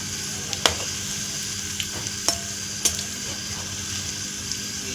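Onion bhaji frying in hot oil while being flipped, a continuous bright sizzle with a few sharp clicks of the turning utensil, close and steady throughout, no one talking.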